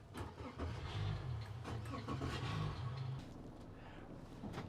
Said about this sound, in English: we're going to fire the engines up